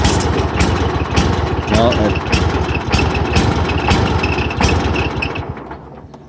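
A Cub Cadet Super LT 1554 lawn tractor engine chugs unevenly, with rhythmic thumping pulses and vibration, loud and close, then fades toward the end. Someone speaks briefly over it.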